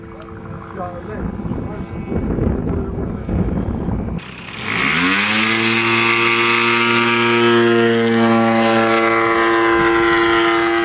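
A model airplane engine at an aerotow meet for vintage aircraft models starts as a loud, buzzing whine that swells in pitch and holds steady. It follows a stretch of wind noise and voices talking nearby.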